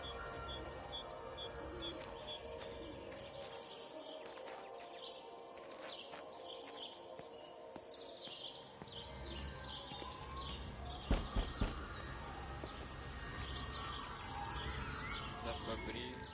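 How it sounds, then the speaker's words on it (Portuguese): Birds chirp and tweet in the video game Everybody's Gone To The Rapture, steady high calls repeating over a soft outdoor ambience, with a murmur of voices underneath and a few brief knocks near the end. "Mais pássaro."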